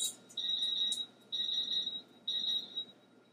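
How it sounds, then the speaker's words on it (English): Laser cutter equipment switching on its features, giving three sustained high electronic beeps in a steady on-off pattern, each about half a second to a second long, fairly clear over a quiet hum. "You may hear some beeping and some loud noise. That's how you know that everything is on."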